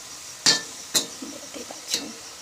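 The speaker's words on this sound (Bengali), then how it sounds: "খুব সামান্য পরিমাণ লবণ অ্যাড করলাম, নেড়ে নেব।" A spoon stirs salt into chicken momo filling in a pan, giving three sharp metallic clinks about half a second apart, each followed by a soft scrape, with a faint sizzle underneath.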